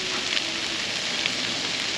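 Crab pieces frying in butter in a pan, a steady close sizzle with fine crackling that runs without a break and has no voices over it.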